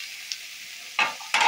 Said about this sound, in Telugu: ఒకసారి కలిపేసుకున్నాం ముక్కలు. ఆయిల్ బాగా కలిపి